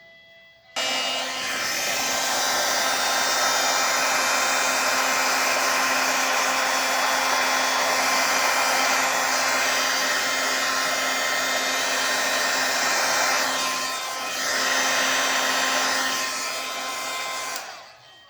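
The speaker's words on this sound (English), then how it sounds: "So I use Brutus Monroe Gilded Embossing Powder, and I'm going to heat set this with the heat tool." An embossing heat tool heat-setting gilded embossing powder on specialty cardstock. It gives a loud, steady blowing whir, like a hair dryer, that runs continuously for about seventeen seconds close to the mic, then shuts off.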